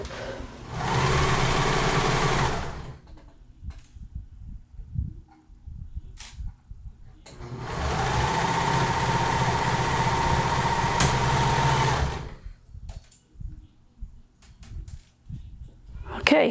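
A sewing machine stitches a knot waistband in two sustained whirring runs, each several seconds long, separated by quieter handling noises and light clicks, fairly close and steady.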